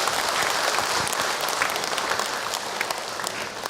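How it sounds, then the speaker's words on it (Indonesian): An audience of women at a religious lecture claps together, a dense rush of many hands that holds steady and then thins slightly toward the end. "Tepuk tangan buat ibu-ibu semua yang hadir hari ini."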